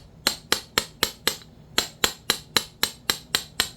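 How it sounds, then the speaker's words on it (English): A hammer beats copper smooth in a metal building, striking about fifteen sharp, ringing, close blows in a steady even rhythm with one brief pause. "dress them up with a hammer"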